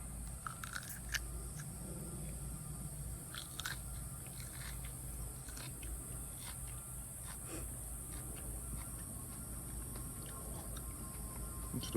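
Close, wet crunching and chewing as someone bites into an Aji Limón chili pepper grown from seed, steady mastication sounds with soft crackles over a constant background hum, no talking.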